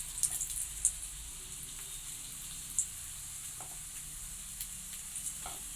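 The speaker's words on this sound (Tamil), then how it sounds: "இப்போ 2 கரண்டியை வச்சு இப்படி இது பண்ணோம்னா அந்த எண்ணெயிலே நல்லா வெந்துடும்" Egg puffs fry in oil, turned with two spoons, giving a soft, continuous sizzle with light crackles and a few sharper spits and clinks, close but quiet.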